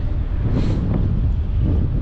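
Strong gusty wind on a spring fishing day buffets the microphone with a loud, rumbling low roar that swells and eases without a break, covering everything else, and nobody talks.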